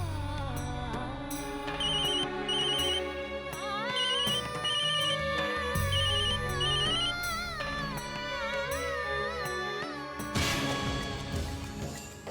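A phone ringtone plays as a continuous melodic tune for about twelve seconds, loud and steady over a soft background, with no voices.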